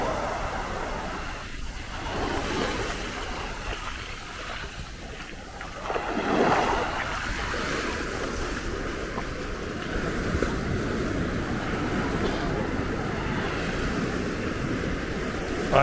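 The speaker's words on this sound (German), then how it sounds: "Und die Wellen davor, was kann es Schöneres geben?" Ocean waves break on the shore at Maspalomas, Gran Canaria, making a steady, loud roar of surf that washes continuously with a slight swell partway through and no clear talking.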